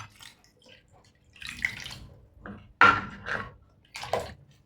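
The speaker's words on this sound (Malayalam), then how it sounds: "കുറച്ച് വെള്ളം കൂടെ വേണം, കുറച്ച് വെള്ളം കൂടെ ഒഴിച്ച് കൊടുക്കാം." More water is poured into a pot of rasam mixture, giving close, splashy bursts of liquid and dripping that come and go in uneven spurts.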